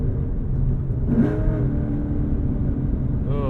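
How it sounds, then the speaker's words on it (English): A 2012 Ford Mustang Boss 302 V8 downshifts from inside the quiet, insulated cabin, with a brief rising rev blip near the middle and another at the end over a steady low engine drone. "Ooh, those are some nice downshifts."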